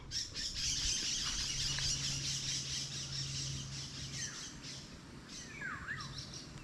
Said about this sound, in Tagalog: parang umana na rin po yung mga huni ng ibon dito